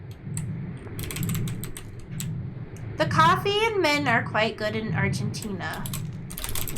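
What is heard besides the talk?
sticky keyboard keys typing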